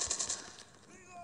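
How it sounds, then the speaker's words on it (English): Gunfire in Call of Duty Mobile: a quick burst of sharp shots rattles at the start, then fades into quieter game sounds, with a voice speaking over it. "There's someone shooting me there"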